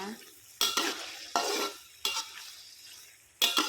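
Chinese chives are stir-fried in a hot pan after soy sauce seasoning goes in, with four loud bursts of scraping and sizzling as the spatula tosses them, separated by quieter simmering pauses.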